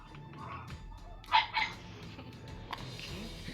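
Puppies give a quick burst of short, close barks and yips midway through an otherwise quiet room.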